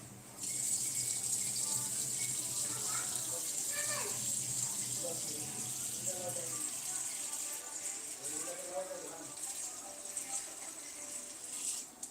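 Water pours steadily into a kadhai for boiling fruit, with a bright rushing splash, while a person talks quietly underneath.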